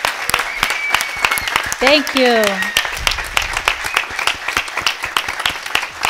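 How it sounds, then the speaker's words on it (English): Conference audience at a drug reform round table gives a round of applause, scattered sharp claps continuing steadily while a speaker briefly talks over them close to the microphone. "So a huge round of applause, and thank you so much for your presence in this Congress."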